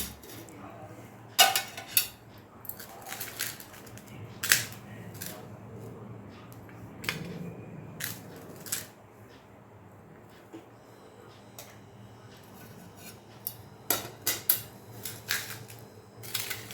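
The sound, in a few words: dishes and cutlery clinking while eating a meal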